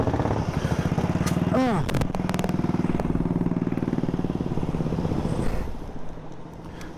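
A classic Velocette motorcycle engine runs close by, with a dragging clutch, at a classic ride-out. The steady, loud thumping idle rises in a brief rev, then settles and fades slightly near the end, with one short exclamation from a voice.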